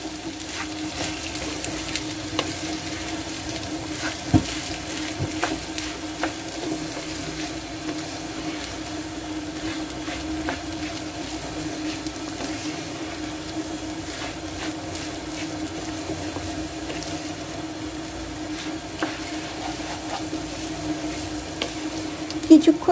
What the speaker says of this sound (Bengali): এখন আমি এই যে পোলাওয়ের চালটা ধুয়ে রেখেছিলাম সেটা ঢেলে দিব, নিয়ে নাড়াচাড়া করে দেব।